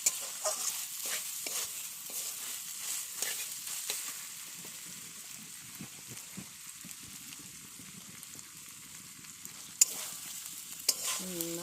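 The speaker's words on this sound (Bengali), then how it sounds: "উঠাইয়া জলটা শুকাই গেছে এখন আমার মাংসটাও ভাজা হয়ে গেল প্রায়" Chicken pieces being stir-fried in a pan for cauliflower chicken kosha, the water cooked off, giving a soft steady sizzle with repeated scraping and stirring scrapes, a couple of sharper knocks near the end.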